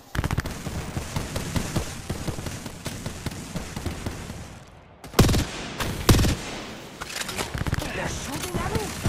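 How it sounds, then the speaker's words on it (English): Enemy gunfire in Apex Legends rattles in dense automatic bursts, loud and close, dropping briefly before a few heavy single shots punch through, with a voice talking over the fight. "They're shooting at me"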